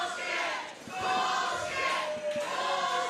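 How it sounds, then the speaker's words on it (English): Wrestling arena crowd booing and jeering at a tag team title decision, a loud sustained roar of many voices swelling and dipping, with shouts rising through it. "And you hear the crowd not happy with that decision."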